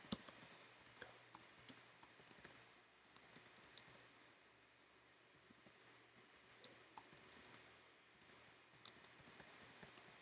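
Faint, rapid clicking of computer keys comes in irregular bursts with short pauses, typed close to the microphone in a quiet room, with no talk over it.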